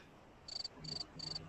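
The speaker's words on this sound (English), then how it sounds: "The crickets could have worked." Cricket chirping used as a sound effect, three evenly spaced high, thin trilling pulses over a faint low background, soft and steady.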